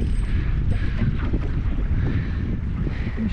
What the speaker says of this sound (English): The wind makes it a bit harder